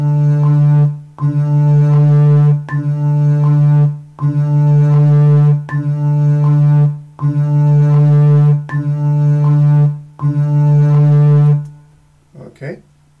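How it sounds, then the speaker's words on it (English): A double bass plays a repeated low note as half notes in steady, evenly spaced sustained bowed tones, about seven in a row, followed by a brief quieter sound. "a half note on the double bass sounds like this."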